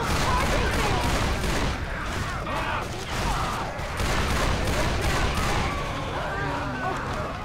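Rapid, loud gunfire from a Desert Eagle pistol in the zombie shooter Left 4 Dead 2, with shots cracking one after another over dense, chaotic game noise throughout.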